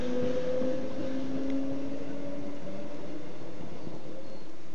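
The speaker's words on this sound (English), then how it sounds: "There's a train coming in now from Brisbane." A train coming in from Brisbane makes a steady rumble with a droning tonal hum, heard from a moderate distance with no talk.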